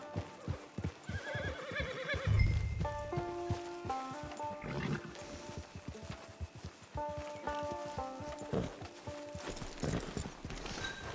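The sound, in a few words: horse in a video game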